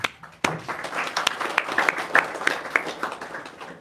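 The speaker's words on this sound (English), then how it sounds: "A great round of applause for all of you." Audience applause after a Bhagavad Gita reading session by about a hundred people at a spiritual festival, sparse individual claps building into a steady round of clapping that holds throughout, fairly close.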